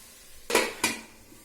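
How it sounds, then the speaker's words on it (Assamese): Kolposola being stirred in a pan, two sharp metallic scrapes and clinks of a spoon against the pan close by, with quiet background between them and no voices. "এতিয়া মই এনেকৈ মাজে মাজে লাৰি আছোঁ"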